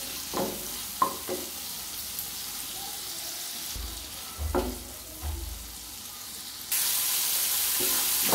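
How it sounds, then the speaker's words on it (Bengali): Shrimp sizzle in hot oil in a pan, a steady close frying hiss broken by a few soft knocks and stirring sounds, growing louder near the end. "চিংড়ি মাছগুলো আমি বেশি ভাজবো না, হালকা ভেজে নেব"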